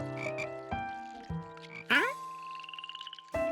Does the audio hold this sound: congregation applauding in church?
no